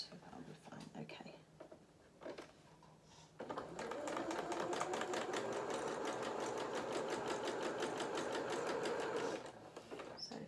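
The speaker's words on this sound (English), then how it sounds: "So let's go back onto our zigzag stitch, which is number 8" A sewing machine runs a zigzag stitch, starting after a few quiet seconds and whirring steadily for about six seconds with a fast even rhythm before stopping.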